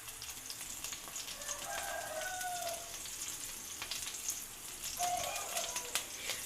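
Onion paste hits a pan of frying chicken with a steady close sizzle and crackle, interrupted by a couple of brief stirring scrapes.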